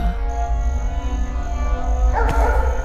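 In a Tamil film, a dog barks while chasing someone at night, a loud, close yapping cry over a dense, droning backdrop that briefly flares with a sharp burst near the end.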